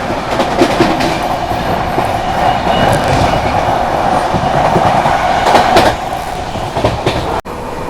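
Sampoorna Kranti Express rolling past alongside a moving Humsafar Express on the Delhi to Prayagraj line: a loud, continuous rumble and wheel clatter that runs steadily throughout, easing slightly near the end, with no talk.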